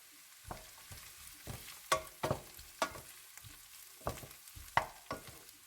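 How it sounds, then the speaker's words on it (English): Garlic and sun-dried tomato stirred in a frying pan for baked macaroni give a soft, close sizzle broken by about eight sharp, irregular scraping stir strokes; no one speaks. "Throw it in. You can put the sun-dried tomato as well and give it a good stir"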